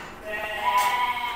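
A single sheep bleats on a goat farm, a close, wavering, nasal cry that swells and then fades over about a second against quiet farm background.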